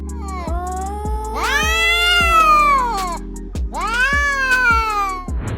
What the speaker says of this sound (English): These kitties are all talk and no fight.